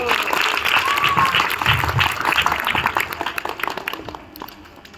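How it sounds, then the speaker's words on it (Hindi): A crowd applauds loudly after a girl recites a poem about daughters, a thick, close burst of clapping that gradually thins and fades toward the end, with a voice faintly audible underneath. "एक बार जोरदार ताली बजा दीजिए"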